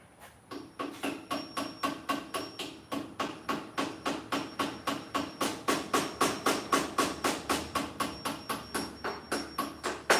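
Steady metallic hammer blows on a Kubota SZ1936 mower caster ring out about three times a second, loud and close, continuing evenly throughout with no talking.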